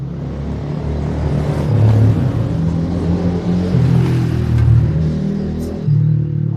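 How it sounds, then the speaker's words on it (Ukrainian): Engines rev loudly and steadily, a continuous droning rumble of motorbikes racing around a residential courtyard nearby, swelling slightly as they race past. "Ганяють на мотоциклах."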